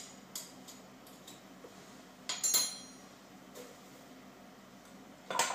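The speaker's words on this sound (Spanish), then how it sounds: "Lo primero que vamos a hacer es mezclar la manteca con el azúcar hasta formar una crema" Butter being mixed with sugar in a bowl, a few scattered utensil clinks and scrapes against the bowl over quiet background, with short sharp taps near the start, middle and end.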